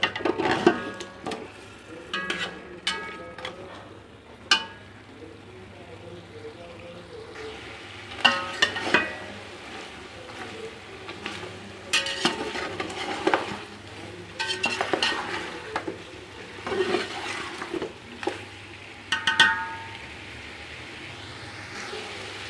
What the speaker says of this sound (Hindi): इसमें डाल देते हैं मटन को और इसको अच्छे से हम भूनेंगे